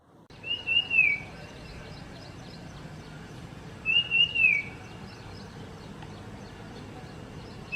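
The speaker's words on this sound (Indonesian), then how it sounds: "nyanyian cipau burung kecil ini mengalun dan bergetar panjang" The cipau, a small songbird, sings two separate quiet, wavering whistled phrases a few seconds apart over faint background hiss.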